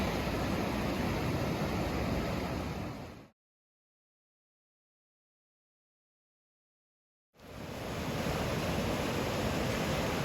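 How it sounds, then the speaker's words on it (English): Pacific ocean surf rolls onto a beach in Olympic National Park as the tide comes in, a loud continuous wash of breaking waves and wind that cuts out completely for several seconds midway before returning. "Tide's starting to come in."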